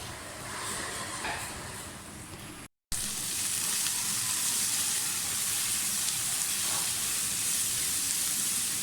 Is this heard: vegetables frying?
yes